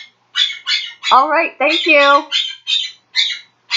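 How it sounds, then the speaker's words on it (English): A pet bird lets out a rapid series of sharp, near squawks, about eight evenly spaced bursts, while a person speaks briefly in the middle. "There's my bird."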